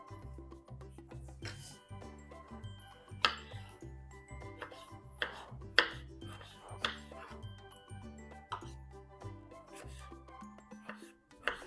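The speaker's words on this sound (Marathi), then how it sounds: "आता टोमॅटो कापणार आहे." Tomatoes being cut into long slices with a kitchen knife while preparing chicken curry: repeated sharp knife taps against a board, irregular in rhythm, over a steady tonal background.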